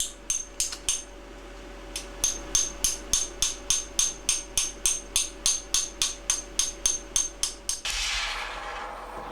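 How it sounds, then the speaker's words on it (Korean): A medium hammer shaping a small silver reliquary jar under 7 cm tall in a metalsmith's workshop, about twenty crisp, evenly spaced metallic taps close by, ending in a brief rushing hiss. "중간 망치로 조여나갑니다."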